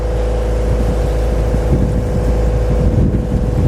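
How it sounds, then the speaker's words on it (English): A steady 30-knot gust roars over an anchored boat in a storm off Hawaii, a loud continuous low rumble of wind buffeting with the boat's engine running underneath, no voices. "The gust just came down, blowing steady 30"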